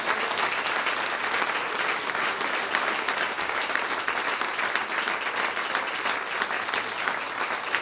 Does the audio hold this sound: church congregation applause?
yes